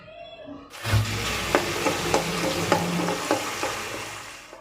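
Black cumin and tomato paste frying in hot oil, a sudden loud sizzle as the paste hits the pan, then steady crackling with regular spoon taps while stirring, close and alone.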